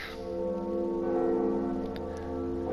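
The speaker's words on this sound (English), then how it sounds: "So we'll ring this bell, and that's pretty much one of the bells of awakening." Bell of Awakening being rung in Dark Souls Remastered, a sustained resonant toll with a long humming decay filling the moment, heard alone.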